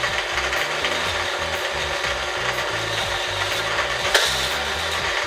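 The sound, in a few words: K'NEX roller coaster car running along the track and launcher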